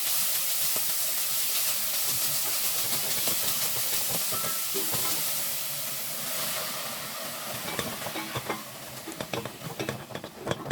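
Minced pork stir-frying in hot oil for a patola dish, a loud steady hiss and sizzle close by with scraping stirring clatter building toward the end.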